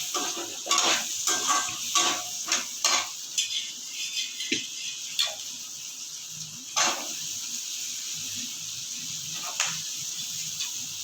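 Egg gravy ingredients sizzle in a hot pan under a constant frying hiss, while a spoon stirs and scrapes in irregular bursts close by, louder in the first few seconds and sparser later.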